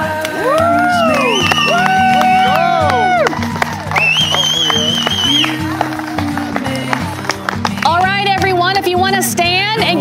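Wedding guests clap and cheer with loud whoops right after the couple's first kiss at the ceremony, a dense burst of clapping and shouting voices close by that carries on throughout.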